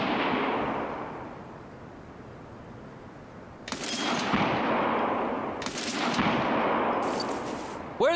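Distant gunfire in the video game Escape From Tarkov, with a few sharp bursts of shots over a rumbling ambient wash, moderately loud and without speech.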